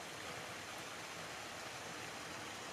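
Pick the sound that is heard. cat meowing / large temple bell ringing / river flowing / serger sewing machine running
river flowing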